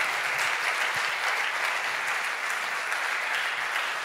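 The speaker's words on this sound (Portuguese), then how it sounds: "Você pode aplaudir a Deus" A church congregation applauds during a Portuguese-language Sunday morning sermon, a steady, dense wash of clapping that holds evenly for several seconds with no voices on top.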